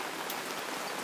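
Heavy rain pouring down outdoors in a garden, a dense, steady wash of patter that fills the whole moment, close and even with no talk.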